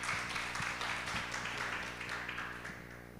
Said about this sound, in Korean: 박수로 한번 격려해 드리겠습니다.